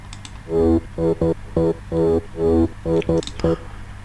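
A rhythmic Spire synth bass line for uplifting trance pulses in short, evenly spaced stabs, loud and clear with no other sounds around it.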